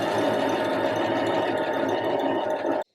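A sewing machine runs steadily while stitching around the bottom hem of a puff sleeve, a dense continuous motor whir with rapid needle chatter that holds for nearly three seconds and then stops abruptly.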